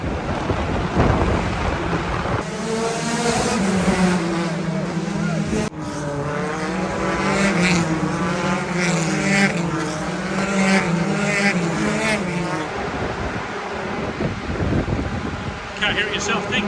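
A Honda CR-V fitted with an IndyCar engine racing on a track, a loud sustained high-revving engine roar rising and shifting through gears before fading, with voices talking nearby.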